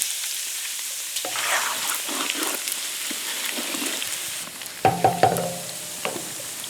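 Pork rinds frying in a pan over an open fire outdoors in the country: a steady crackling sizzle with a few scraping stirs and several sharper pops near the end, close and fairly loud, with no voices.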